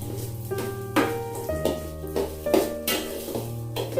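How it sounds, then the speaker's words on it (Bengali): Rice for peas pulao being stirred and tossed in a pan, with scraping strokes and soft sizzling under a steady low hum, several stirs in a loose rhythm. "এটাকে আমি এরকম করে নাড়াচাড়া করে ভালো করে ভাজবো।"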